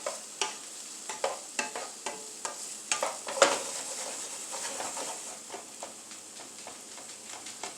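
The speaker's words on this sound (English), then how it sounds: "Give it a little stir." Vegetables sizzle quietly in a pan while a utensil stirs them, producing a series of sharp, close scrapes and taps over a soft, continuous frying hiss, with no voices.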